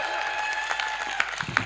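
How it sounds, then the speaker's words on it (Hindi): Audience clapping at a Hindi comic poetry show, a moderate steady patter of hands with a few sharper individual claps standing out near the end. "एक बार पूरी मस्ती के साथ जोरदार तालियां"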